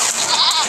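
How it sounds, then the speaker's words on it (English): A goat in a video game lets out a short, bright, wavering bleat, close and clear, with no talking over it. "There's a goat!"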